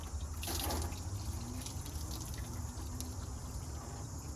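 Coolant draining out of a disconnected hose on a 2019 Dodge Ram 1500 during water pump replacement: a steady, close trickle of liquid with faint dripping, continuous and fairly quiet throughout.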